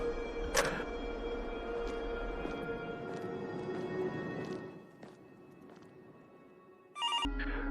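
A telephone rings with sharp repeated chimes over a steady low hum, then the ringing stops briefly before a loud burst of ringing returns near the end.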